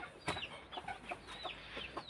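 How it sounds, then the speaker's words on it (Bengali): Chickens and ducks let out and fed in the morning, giving a series of short, fairly close clucks and calls in an irregular rhythm with no talking. "সকালবেলা হাঁস মুরগি"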